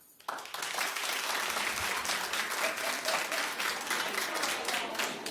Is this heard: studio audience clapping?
yes